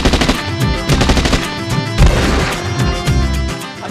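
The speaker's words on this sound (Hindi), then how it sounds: "गोलियाँ चल रही हैं" Dense bursts of machine-gun fire crackle loudly in rapid, continuous volleys with sharp overlapping shots, close and unrelenting for several seconds with no talk.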